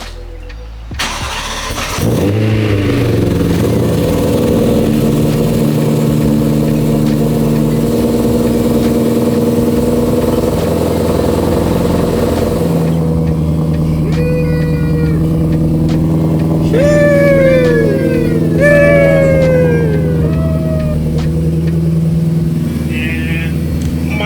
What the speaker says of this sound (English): let me open up the other garage door and we're gonna start the car and see